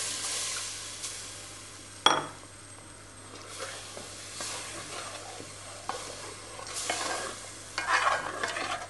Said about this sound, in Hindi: पानी में डाल के मिक्स करूंगी ताकि लम्स ना बने